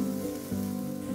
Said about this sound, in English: Saute the onions and carrots for a couple of minutes